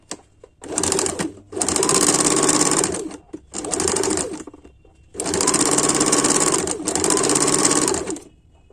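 A sewing machine stitches suit fabric in several loud, close bursts, two short runs and then longer ones, with brief quiet pauses between them and no talking.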